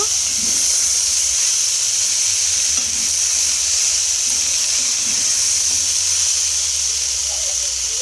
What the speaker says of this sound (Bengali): এখানে সবজিগুলো ভাজা করে নিচ্ছি